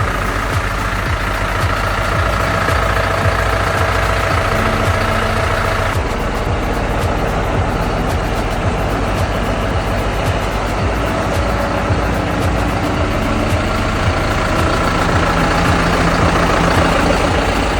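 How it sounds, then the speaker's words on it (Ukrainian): A John Deere 6420 S tractor engine runs with a loud, steady low rumble throughout, unchanging and continuous. "Потихесенько виїжджає трактор на українську землю"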